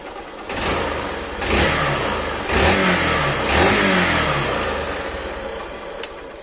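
Close up, a Honda Titan 150 carbureted motorcycle on its original camshaft, with stock filter and exhaust, is blipped through several rising and falling revs before settling back toward idle, loud and with no talking.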